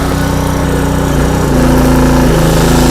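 A 2-in-1 generator with a built-in welding machine runs loudly up close. Its small engine drones steadily and buzzes, and the pitch rises slightly partway through.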